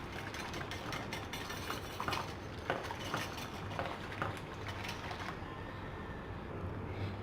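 Tamarind chutney for samosas is stirred in a pot with a ladle, making quick, irregular scraping and clinking against the metal, fairly close and quiet, with a faint background hum and no talking.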